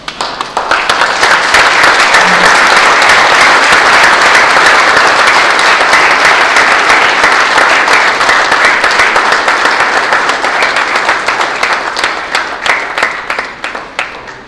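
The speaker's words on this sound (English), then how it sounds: "I would like you all to stand up and give him a round of applause for that outstanding achievement" Audience rises for a standing round of applause honouring an outstanding achievement, loud dense clapping building quickly and sustained for over ten seconds before tapering off at the end.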